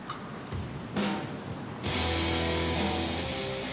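Rain pouring down in Le Havre, a continuous hiss of falling water that grows heavier partway through, joined by a low steady rumble and faint tonal hum.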